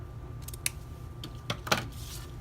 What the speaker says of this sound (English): So I just fold that in half and then just cut in an angle.